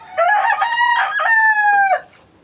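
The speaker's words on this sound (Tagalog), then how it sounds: "Ayan po yung mga alaga nilang manok." A rooster crows once, loud and close, a long drawn-out call that ends abruptly.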